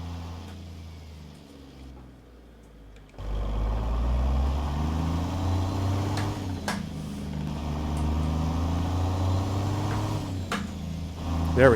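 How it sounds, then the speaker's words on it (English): Freightliner FLC truck engine in American Truck Simulator, hauling logs with ProMods Canada, rumbling low and steady before revving up, with rising and falling tones as it shifts from deep reduction into highway gears. "better timing on that switch from deep reduction to highway gears"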